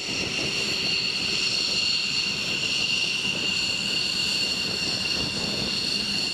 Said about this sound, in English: After engine startup and system verification, the crew requests taxi clearance, following designated taxiways